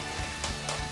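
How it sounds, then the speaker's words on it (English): Pan of shakshuka simmering under a lid, giving a soft continuous sizzle and bubbling crackle, close and steady throughout the brief moment. "we'll just let that simmer for a bit"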